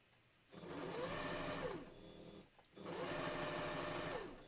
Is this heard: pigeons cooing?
no